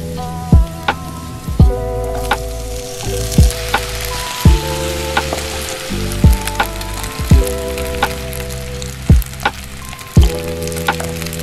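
Food deep-frying in hot oil, a steady close crackling sizzle with repeated sharp clanks and knocks of a utensil against the pan at irregular intervals, no voices.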